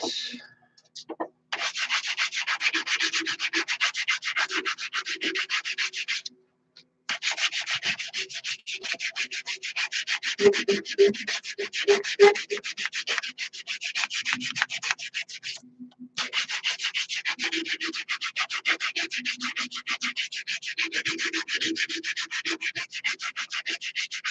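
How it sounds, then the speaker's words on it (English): Steady rasping strokes of 100-grit sandpaper sanding the end of a handmade wooden massage tool, continuous and close, with two short pauses and quiet low thumps underneath. "We're going to do this end down to the 100 grit."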